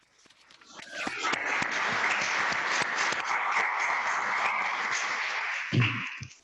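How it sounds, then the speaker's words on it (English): An audience breaks into sustained applause after an academic presentation, many hands clapping steadily for several seconds before fading, with a brief voice near the end. "That was an applause."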